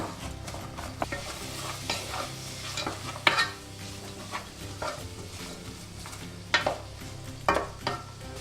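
Onions and garlic sweat in a pan with a soft, continuous sizzle while a utensil stirs them constantly, scraping and tapping against the pan in irregular strokes, close up and without talk.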